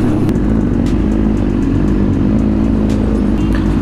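A BMW S1000RR motorcycle engine runs loud and close, giving a steady, dense roar that holds without pause for a few seconds, with no voices over it.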